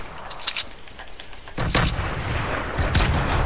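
Gunfire in a shooter video game: a loud burst of repeated gunshots that thickens into a heavier, sustained barrage of rapid shots partway through.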